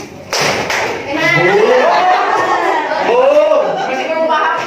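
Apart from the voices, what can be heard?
students clapping hands and slapping tables on command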